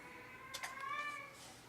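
A cat lets out one drawn-out meow with a wavering pitch, moderately close, against a low steady background hum.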